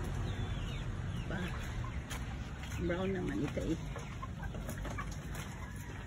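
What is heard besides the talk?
chickens clucking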